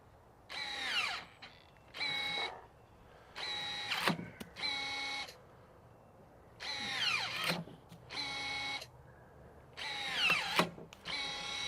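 Milwaukee M18 cordless telescoping pole pruning shears cut through a branch nearly 1.5 inches thick. Repeated short bursts of motor whine rise and fall in pitch, with brief snaps and clicks between them, close and distinct.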